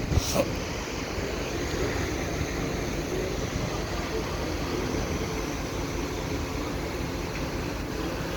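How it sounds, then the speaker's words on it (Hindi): Strong wind blows steadily in Karachi during summer, a loud, continuous roar buffeting the microphone without pause. "बहुत हवा चल रही थी, हालांकि गर्मियों का मौसम था, लेकिन हवा बहुत अच्छी चल रही थी कराची में"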